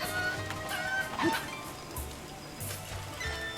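A chicken clucks a few times over a quiet game soundtrack in Zelda: Breath of the Wild, with a soft thud partway through.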